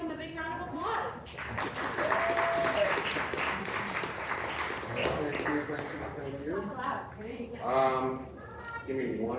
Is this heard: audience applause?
yes